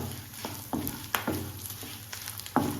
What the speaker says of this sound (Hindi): इस तरह से कंटिन्यू चलाते हुए हम इसको धीमी धीमी आंच पर अच्छे से भून लेंगे